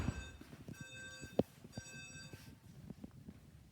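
An alarm bell rings faintly outside in repeated bursts, heard as thin steady tones under nearby low knocks and handling noises.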